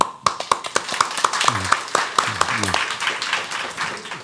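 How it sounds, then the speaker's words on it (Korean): Audience applause at a startup demo day presentation, beginning as distinct separate claps and quickly swelling into a dense round from the room, with some voices underneath. "박수."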